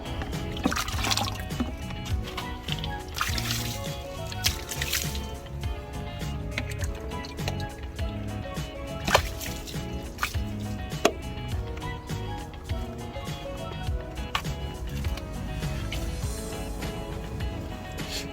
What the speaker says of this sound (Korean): 이제 물 좀 뿌려보고